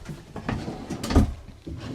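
Bathroom vanity drawers in a 2025 Forest River Salem Hemisphere 265BSRB travel trailer are opened and closed, giving a few soft sliding bumps and one sharper thud, close and fairly quiet.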